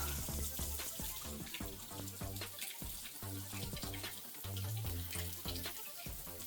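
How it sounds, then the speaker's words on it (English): Water splashes and trickles steadily from a drain pipe outdoors in John Forrest National Park, Australia, with a constant bubbling, dripping texture and no voices. "But there is water trickling from the top there as well."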